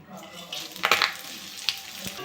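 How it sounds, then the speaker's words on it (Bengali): Whole cumin, dry chilli, bay leaf and garam masala frying in hot oil left from potatoes, a brief close sizzle with a few bright crackles and stirring scrapes. "নেড়ে চেড়ে একটু ভেজে নেবো।"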